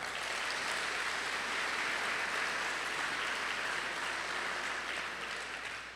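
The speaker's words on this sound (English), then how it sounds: "Please give them another round of applause." Steady applause from an audience fills a commencement ceremony for a prison education program, a soft, even wash of clapping that carries on for several seconds before starting to fade.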